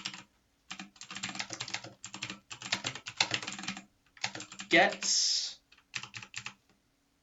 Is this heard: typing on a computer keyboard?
yes